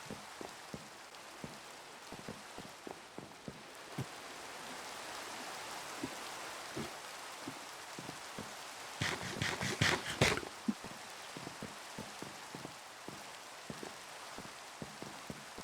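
Rain falls steadily in a Minecraft modpack game world, a soft constant patter with scattered sharper drip ticks and a brief louder crackling burst near the middle, with no voices.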